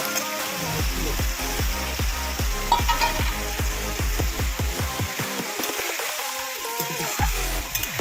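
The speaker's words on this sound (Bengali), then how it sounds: "এবার আমি এর মধ্যে আমার ভেজে রাখা আলুগুলো" Fried potatoes are stirred into poppy seed paste sizzling in oil, with a rapid series of sharp spatula scrapes and knocks against the pan over a bubbling sizzle that eases near the end.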